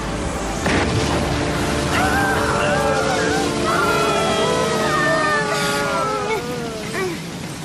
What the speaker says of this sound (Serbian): Supersonični zvučni talas!